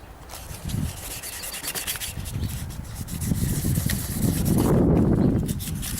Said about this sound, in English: New piece of sandpaper works a lot better.